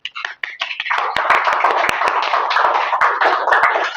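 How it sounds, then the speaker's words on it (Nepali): A small group claps hands in a dense, steady run of overlapping claps that builds from a few scattered taps into a full round of applause, close and loud, with a few sharper individual claps standing out. "त यसको लागि त हामीले ताली बजाउनु पर्छ यार।"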